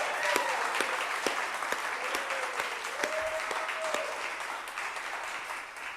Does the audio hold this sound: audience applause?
yes